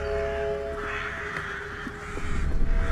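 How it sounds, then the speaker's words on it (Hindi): Many crows caw harshly together, a loud overlapping chorus of calls filling the air, with rustling and movement growing toward the end. "इतने सारे कौवे।"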